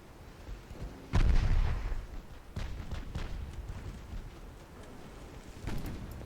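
Warship guns fire in Ultimate Admiral Dreadnoughts during stormy weather, with one loud, heavy boom followed by several fainter distant shots over a rumbling, rain-like background.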